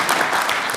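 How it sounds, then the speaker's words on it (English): Audience at the 74th Health Ministers' Conference in Lilongwe, Malawi claps loudly and steadily for a presenter, a dense, sustained burst of hands with no pauses. "Give her another loud clap."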